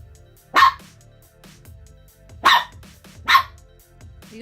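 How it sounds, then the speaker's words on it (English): Otis the dog gives three sharp, loud barks, one alone and then two closer together, with quiet pauses between them. "Are you done barking?"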